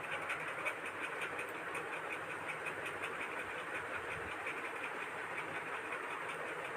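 A sewing machine running steadily while it stitches the fitting seams of a simple suit kurti, a constant mechanical whirr with a faint rapid clatter, continuous and close, with no voices.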